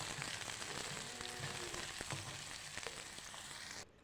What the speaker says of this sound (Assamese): ৰঙচুৱা হোৱালৈকে ভাজি ল'ম।